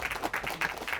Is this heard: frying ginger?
no